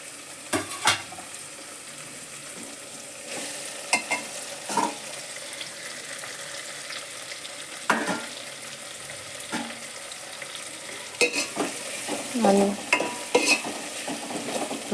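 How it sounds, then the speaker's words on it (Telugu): Potato curry (aloo kurma) with tomato pieces cooks in a lidded pan, giving a soft, low sizzle. Scattered light clicks and taps come through it, with a slightly busier patch near the end. "కొంచెం వేగనిద్దాం మూత పెట్టేసుకొని"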